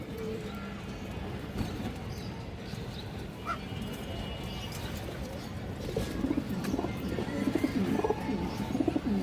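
A Sapchila pigeon coos softly in a busy pigeon market or loft, a low murmuring amid other birds, a barking dog and background clatter, with no clear speech.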